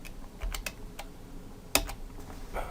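Several quick taps on a computer keyboard, irregular and close by, with one sharper clack near the end.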